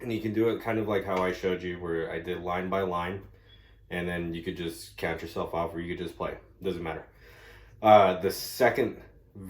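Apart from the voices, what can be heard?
No everyday noise stands out behind the speech.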